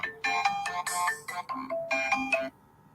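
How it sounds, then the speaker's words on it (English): A mobile phone ringtone plays nearby, a bright melodic electronic tune in several repeated bursts lasting a few seconds, loud and clear with no talking over it. "Sorry guys, that's my phone."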